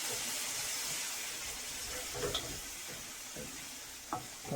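Mash lentils with water sizzle steadily in a pan while frying under a constant hiss, with a few soft scrapes and clicks of stirring breaking through.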